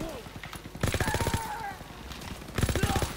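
Two rapid bursts of automatic gunfire come from a gun in the game Call of Duty WWII. The loud, clipped volleys are separated by a short pause, with faint voice sounds in between.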